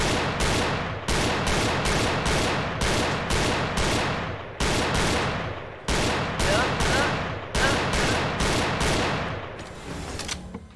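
Gunfire in the VR shooting game Gun Club VR, heard as regular bursts of close, loud rapid shots separated by brief pauses, nine or so volleys in a steady rhythm, with a quieter rattling tail at the end.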